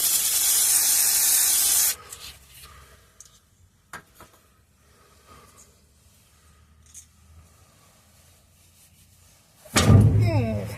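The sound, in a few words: spraying lubricant onto truck bumper bolts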